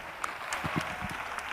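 A congregation at a prayer and intercession service claps briefly and quietly, a soft scattering of hand claps in a short burst.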